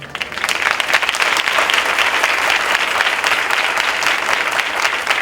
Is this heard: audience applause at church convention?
yes